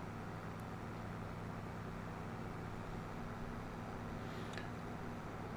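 A tractor engine runs steadily on a grass field in a farming video game, giving a continuous low droning hum with faint tonal layers and no speech.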